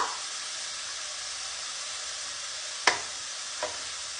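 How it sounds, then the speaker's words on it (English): Onions fry in a pan with a steady broadband sizzle, turmeric powder just added, broken by two sharp clinks or stirring knocks near the end; no talking. "my onions are almost done now, and I will just throw in first a little turmeric powder"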